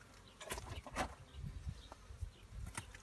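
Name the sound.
honey bees buzzing in a beehive during inspection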